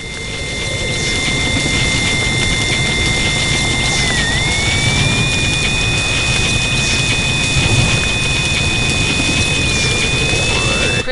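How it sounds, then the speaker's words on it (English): A loud, continuous roaring whoosh like a helicopter's rotor and engine fills the scene in the VR video game I Expect You to Die, steady throughout with a thin high electronic whine layered above. "Your helicopter's arrived, but it can't get close until you destroy that machine."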